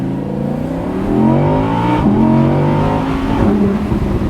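An Audi R8 Spyder accelerates hard, its engine note climbing through the revs in a loud, close roar, then dropping briefly at a gear change before rising again.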